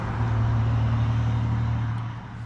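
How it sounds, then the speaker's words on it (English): Cars passing on a rural road in Lincoln County, Kentucky, a steady low rumble of traffic swelling and fading briefly, heard alone with no voices. "So I don't know if you heard that with the cars going by."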